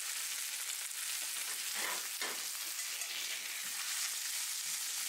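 Steak sears in butter and oil in a pan during a reverse-seared steak cook, giving a steady, loud, continuous sizzle and crackle with a few spatter bursts and no talking.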